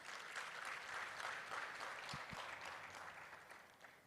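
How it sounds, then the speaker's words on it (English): An audience at a university capital market challenge awarding ceremony gives the judges a sustained round of applause, a dense steady clapping that holds throughout and fades slightly at the end. "Let's appreciate them with a loud round of applause."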